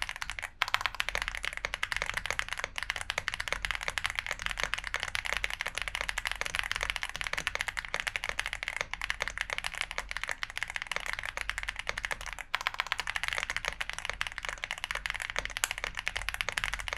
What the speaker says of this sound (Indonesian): Sekarang gue mau kasih kalian sound test-nya.